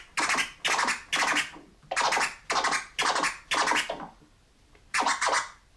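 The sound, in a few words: DJ rasp scratch on turntable, flicking wrist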